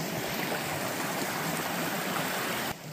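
River rerouted by a recent flood rushes past nearby with a steady broadband wash of moving water, constant and fairly loud with no talk, cutting off abruptly near the end.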